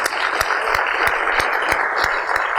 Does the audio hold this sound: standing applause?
yes